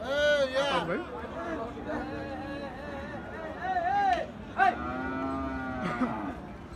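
Cattle, including bulls, moo repeatedly at a busy livestock market during bargaining, with several loud, drawn-out calls close by and people talking throughout.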